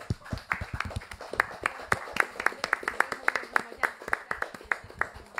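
Sparse, uneven clapping from an audience at a closing ceremony, individual hand claps sounding close and distinct rather than as a dense roar, with a voice speaking faintly underneath.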